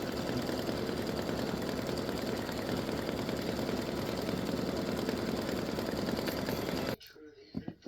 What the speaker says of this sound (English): Now this will stitch a satin stitch for the entire grid.